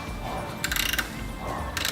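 A ratchet socket tightens the Allen bolts on a brake caliper of a crash-damaged VW Mk8 Golf R, giving two short bursts of rapid, close metallic clicking over quiet background hiss.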